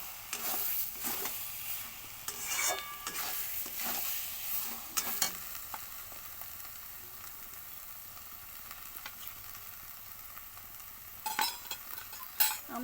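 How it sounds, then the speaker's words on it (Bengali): Food fries in a pan with a steady sizzle while a utensil stirs it now and then, scraping and clinking against the metal in irregular bursts, close and fairly quiet, with no voices. "নাড়া দেবো"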